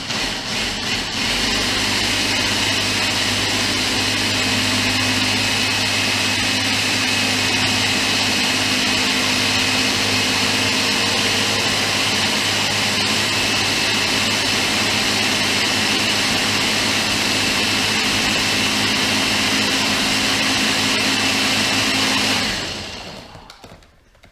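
A Ninja blender runs loud and steady, whirring through vegan tomato soup for about twenty-three seconds before cutting off abruptly; there is no talking.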